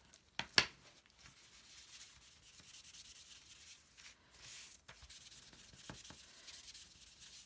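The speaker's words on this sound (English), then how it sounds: "when you rub the ink off of the embossing areas" Ink being rubbed off embossed areas of a card, heard as soft, close scratchy rubbing strokes in a quiet room, with a few sharper scrapes near the start.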